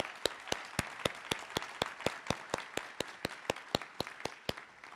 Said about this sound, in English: So let's give them a big round of applause for a job well done.